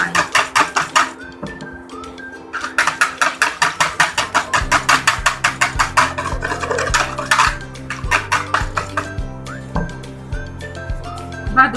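A spoon stirs a yeast mixture for pizza dough in a bowl, fast rhythmic clinking and scraping in bursts close up, with music playing underneath.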